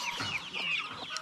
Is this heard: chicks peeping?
yes